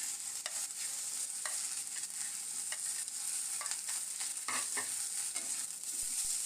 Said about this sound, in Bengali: পেঁয়াজ কুচিগুলো হালকাভাবে ভাজার পরে রসুন কুচিগুলো এবং ঝালগুলো দিয়ে দেব।